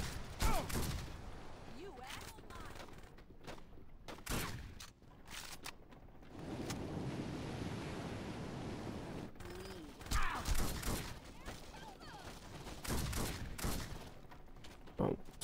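Loud, sharp gunshots and rapid bursts from the Saints Row 2 video game crack out in clusters, separated by stretches of rumbling game noise, with a player talking between the shots.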